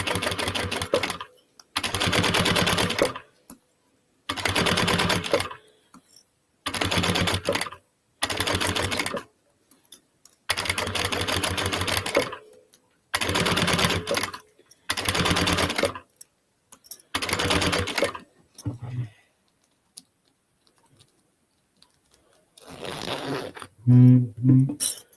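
Sewing machine basting a fold-over clutch bag in repeated bursts of rapid stitching, each a second or two long, separated by short pauses; near and loud, with a brief handling clatter near the end.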